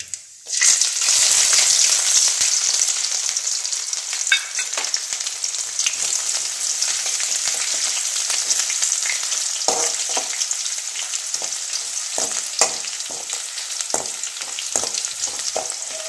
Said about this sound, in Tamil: கடாயை அடுப்பில் வச்சுட்டேங்க எண்ணெயும் ஊற்றிட்டேன் இப்போ வந்து கடவுளந்தம்பருப்பு போட்டுடலாங்க வந்து இஞ்சியும் பூண்டும் போட்டுடலாங்க